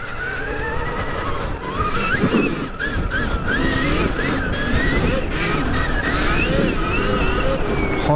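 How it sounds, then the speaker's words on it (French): Stark Varg electric motorcycle riding down a dirt path in Normandy, with rough broadband tire scrubbing and skidding over a steady whine and wind rush, continuous and close throughout. "Oh, et j'adore entendre le pneu là déraper."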